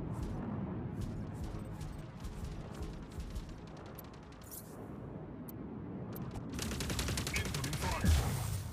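Mech battle in the video game Mech Arena, with dense, rumbling gunfire and explosions rolling continuously, growing brighter and heavier toward the end with a sharp blast near the close.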